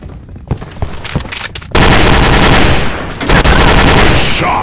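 Gunfire erupts in Counter-Strike Online 2 on an office map against bots: a scatter of separate shots gives way to loud, continuous rapid automatic fire, with a brief lull before another sustained burst.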